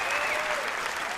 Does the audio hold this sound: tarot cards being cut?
no